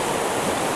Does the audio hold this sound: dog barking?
no